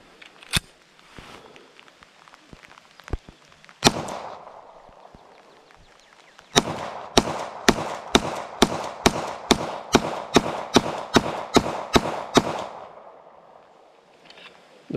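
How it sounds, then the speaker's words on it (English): A magazine of 124 grain Bellum ammunition fired from an OA Defense 2311 Compact Pro pistol outdoors. Scattered sharp reports come first, then a steady string of about fifteen evenly spaced loud shots. "the first magazine was Bellum 124 grain ammunition, and I was just shooting to check functionality of the pistol"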